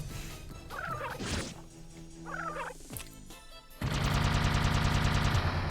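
Dark Cannon attack in the Disgaea: Hour of Darkness video game: layered electronic effects with warbling bursts, then a sudden loud, sustained rapid-fire barrage of rattling shots that continues to the end, no speech.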